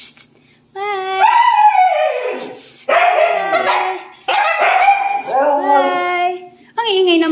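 Agouti puppies bark and yip in loud, close, high-pitched bursts, with several overlapping calls over a few seconds and short pauses between them.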